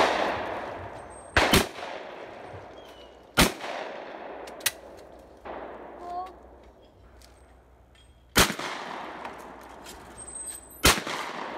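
Shotgun blasts at clay targets on an outdoor range ring out as five sharp, loud reports spaced a few seconds apart, each trailing a brief echo, with quiet talk between shots.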